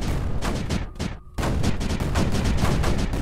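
Mortars firing in the video game Creeper World 4: a dense, loud barrage of rapid booming shots that drops off briefly, then resumes as continuous overlapping blasts.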